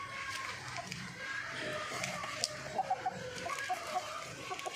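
A few chickens cluck in short, repeated bursts, fairly faint, over a busy background.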